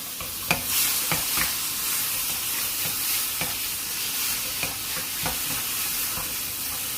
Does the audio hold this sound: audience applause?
no